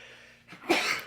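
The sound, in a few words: sneeze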